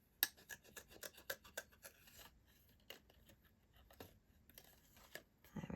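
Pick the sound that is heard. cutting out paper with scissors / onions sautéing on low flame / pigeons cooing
cutting out paper with scissors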